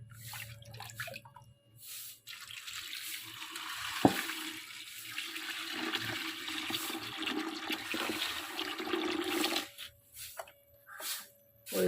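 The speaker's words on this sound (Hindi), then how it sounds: "अब डालेंगे इसमें पानी।" Water poured into an iron pot holding caustic soda for homemade washing soap, splashing and trickling in uneven bursts with pauses, close and moderately loud, with no talk.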